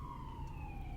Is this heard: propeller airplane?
no